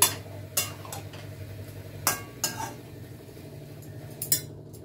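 A utensil stirs food in a cooking pan, making scattered metallic taps and scrapes at irregular intervals against a quiet background hum.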